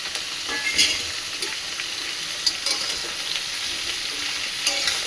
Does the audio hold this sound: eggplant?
yes